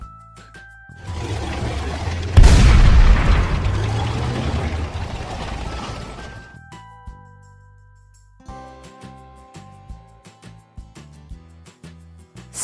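Tank moving, with a loud rumbling, roaring engine burst followed by ratcheting, clanking mechanical track noises, close and without speech.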